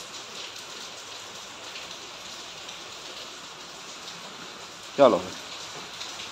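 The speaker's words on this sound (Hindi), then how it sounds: "अब बारिश हो रही है, मजे नज़ारा लो बारिश का" Steady rain falls as a constant soft hiss throughout, outdoors at a colony in Baddi in July, with a single short spoken word and a brief louder thump near the end.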